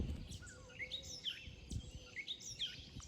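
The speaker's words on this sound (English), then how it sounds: "I love to hear the sound of the birds." Several birds chirp and whistle outdoors on a gray morning, bright repeated calls over a steady low rumble of wind or distant traffic, moderately far and fairly faint.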